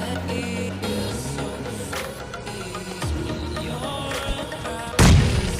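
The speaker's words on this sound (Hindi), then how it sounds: "पहला वाला ग्रेनेड गलत जाता है" Grenade blasts in the mobile battle royale game PUBG Mobile Lite, set amid a dense bed of game sound and gunfire, with one loud, close booming explosion near the end.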